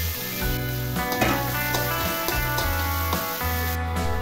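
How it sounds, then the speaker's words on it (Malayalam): Chopped banana flower is added to hot oil with popping mustard seeds for a Kerala thoran, and a steady sizzle runs throughout beneath prominent background music. "കടുക് പൊട്ടി വരുമ്പോൾ നമുക്ക് അരിഞ്ഞു വെച്ചിരിക്കുന്ന ചുണ്ട് അതിനകത്തേക്ക് ചേർത്ത് ഒന്ന് വഴറ്റിയെടുക്കാം."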